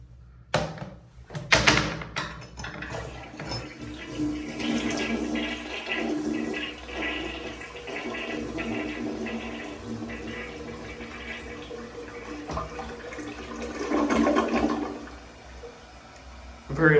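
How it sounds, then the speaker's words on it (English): A slow, drawn-out flush from a hotel bathroom toilet at a Courtyard Marriott in Raleigh, starting with a sharp clunk and a prolonged rushing of water that swells again before the end, heard close and alone. "Very long and slow flush,"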